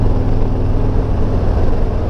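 Vehicle engine loafing at low RPM with lots of torque, a loud steady low rumble with no revving, continuous and close throughout.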